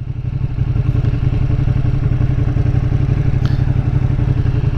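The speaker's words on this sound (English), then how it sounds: "this engine is impressing me already" A 2020 Ducati Panigale V2 engine pulls hard while riding, a loud, close, rapid pulsing thrum with steady clattery texture throughout and no talk.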